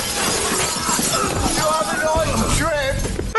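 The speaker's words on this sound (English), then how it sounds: "I didn't trip, you threw me through the glass" Glass shatters as a person is thrown through it in a crocodile movie scene, a loud, dense crash with scattering debris amid busy film sound and voices.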